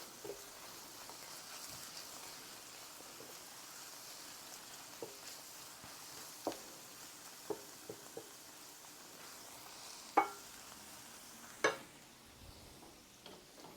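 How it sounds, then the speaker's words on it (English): Mushrooms frying in a pan, a quiet, steady sizzle with scattered soft clicks and a few sharper ticks of utensils, close and low in level, no voices. "Okay, so these mushrooms are cooking down nicely."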